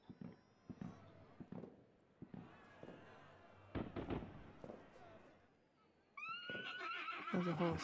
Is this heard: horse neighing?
yes